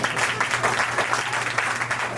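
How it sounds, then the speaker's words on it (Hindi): An audience at a Hindi Diwas gathering at the Seattle consulate claps in a steady, moderately loud patter that runs evenly through the brief moment. "और अच्छी जो लगी हो बात, ताली तो बजाइए"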